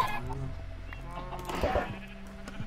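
Farm animal calls from a Minecraft game, squawking bird-like cries of chickens mixed with other livestock sounds, repeating over steady background music with a voice talking underneath.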